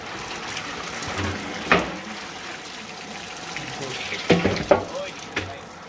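Water is poured out and splashes at a sink or tap in a home kitchen, with a few louder gushing bursts over steady background noise and faint talk nearby.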